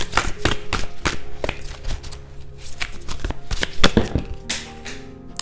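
Cards riffle and snap in quick bursts, a deck shuffled repeatedly up close with sharp rapid flutters and taps.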